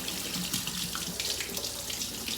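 Tap water runs into a kitchen sink before dishwashing, a steady close splashing stream that flows without a break, with no talking.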